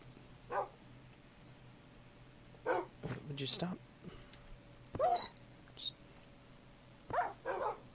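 Dogs in the Minecraft Better Than Wolves mod give several short separate barks and yips, spaced out over the clip at moderate volume, with a person talking between and over them.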